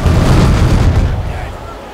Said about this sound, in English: Cannons ready, sir. Left side. Fire.